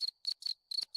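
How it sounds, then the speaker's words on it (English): A cricket chirping sound effect played from a Discord soundboard: five crisp, shrill chirp bursts in quick, even succession, loud and alone. "There's a cricket."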